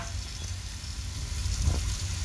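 Diced squash hits a pan of frying seasoning base for a squash stew. A steady close sizzle runs throughout and swells briefly as the pieces land and are stirred.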